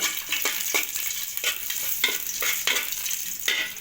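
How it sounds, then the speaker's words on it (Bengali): Cardamom, cinnamon and cloves fry in hot ghee with a loud, close sizzle, broken by regular scraping stirs of a spoon in the pan, and no voices. "30 সেকেন্ডের মতন আমি ভেজে নেব মশলাগুলি।"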